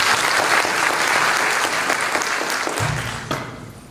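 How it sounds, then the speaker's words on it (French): Sustained applause from an audience at the opening of a national mathematics doctoral event in Algeria, honouring a professor; dense clapping fills the room steadily for several seconds, thinning slightly toward the end. "On l'applaudit encore"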